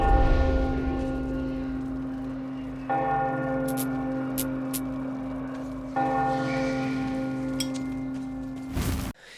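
Ghostly bells toll in the Metro video game, three slow, resonant strikes a few seconds apart, each ringing out with long sustained overtones before a sharp clatter at the end.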